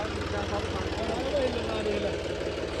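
A tractor engine idles with a steady low chugging rumble while someone talks nearby.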